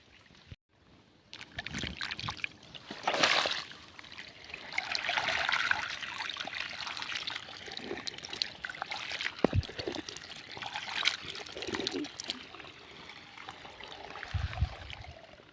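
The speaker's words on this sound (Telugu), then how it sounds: "నీళ్ళు పారుతూ ఉన్నాయి." Irrigation water trickles and pours steadily through pipes in a sunny field, a fairly quiet continuous flow with small splashes and occasional louder gurgles and knocks.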